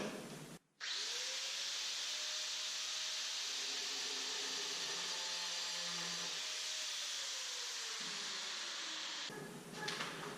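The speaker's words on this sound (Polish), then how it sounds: "My będziemy wiercić dziesiątką." A power drill fitted with a 10 mm bit bores into terracotta or porcelain tile, giving a steady, loud high whine that runs for about nine seconds and then stops abruptly.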